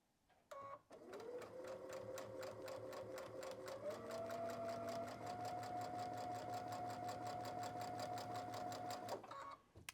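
A sewing machine chain-pieces bowtie and nine patch quilt blocks, running continuously for about nine seconds with a rapid, even stitching rhythm and a motor pitch that rises slightly partway through, loud and alone.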